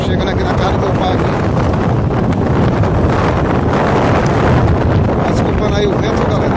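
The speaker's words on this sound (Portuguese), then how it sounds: "Desculpando aí o vento, galera. O vento aqui," Strong wind buffets the microphone outdoors at a rural family home, a loud continuous roar that covers the whole clip.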